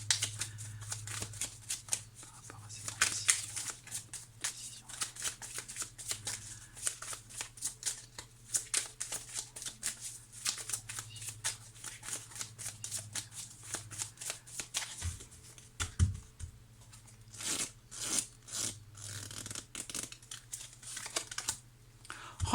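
Tarot cards are shuffled and drawn close to the microphone in a long run of rapid, crisp riffling and flicking, with brief pauses and a few soft taps as cards are laid down.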